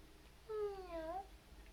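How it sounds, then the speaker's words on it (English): A cat gives one drawn-out meow, rising and falling in pitch over nearly a second, faint and somewhat distant against a low background hum in a home setting. "Kitty cat."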